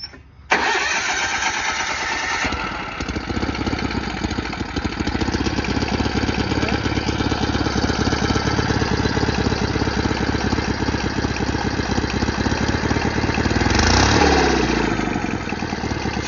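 A Sears GT lawn tractor engine cranks and catches after about half a second, then settles into a loud, steady idle with a rhythmic chug that briefly rises near the end.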